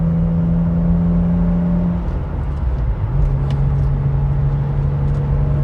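Steady droning engine note of a 320-horsepower BMW E36 M3 Evolution heard from inside the cabin as it accelerates past 60 mph, with a brief drop in pitch at a gear change before the tone climbs again.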